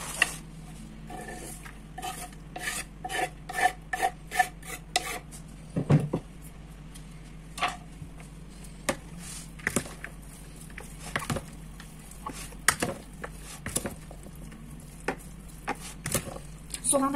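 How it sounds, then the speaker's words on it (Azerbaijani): Potatoes and other vegetables for a vinaigrette beetroot salad chopped on a board with a knife, producing a steady series of close, sharp taps at a quick irregular rhythm, with quiet kitchen background between strokes. "Lobya nə boydadırsa, bütün tərəvəzləri o boyda doğrayıram."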